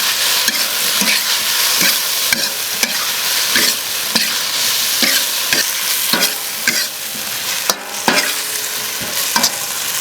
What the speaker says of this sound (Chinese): 辣椒、洋葱、姜给下进去，一把的干辣椒，把这个先炒一下，炒香啊。